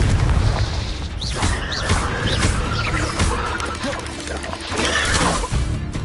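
A Confringo spell blast in Hogwarts Legacy, a loud booming burst with crackling layered over dense game action, while a voice shouts spell names throughout.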